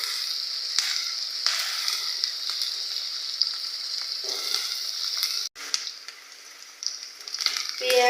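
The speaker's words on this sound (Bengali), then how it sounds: "পেঁয়াজ, মরিচ, রসুন হালকা লাল লাল হয়ে গেলে আমি সজনের ফুলগুলো দিয়ে দেব।" Onion, chili and garlic fry in a pan with a steady close sizzle, broken by a few soft stirring scrapes and a brief clatter partway through.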